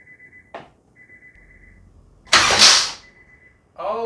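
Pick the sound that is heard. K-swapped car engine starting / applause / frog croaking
K-swapped car engine starting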